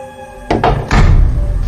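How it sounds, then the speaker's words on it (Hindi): A door slams shut on its own as a horror sound effect, with a sharp thud followed by a second heavier bang and a lingering low rumble, loud and close with no talking. "ये दरवाजा कैसे बंद हो गया?"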